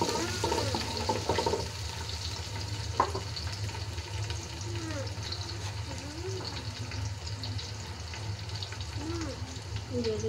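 Onion frying in a pan for a Bengali home-cooked meal, a steady broadband sizzle with watery crackle running throughout, with faint voices and bird-like chirps in the background.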